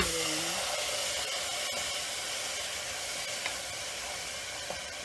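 Barley risotto stock ladled into a hot pot gives a steady, fairly loud sizzling hiss that holds for the whole stretch, with no talking over it.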